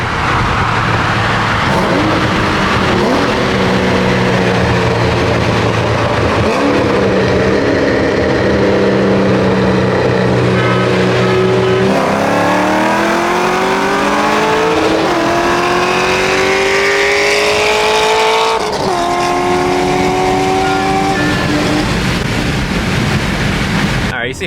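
A tuned JB4 BMW X3M races a cammed Corvette Z06, with loud engines roaring close by through repeated upshifts, each rising whine dropping sharply at the shift, under steady wind and road rush.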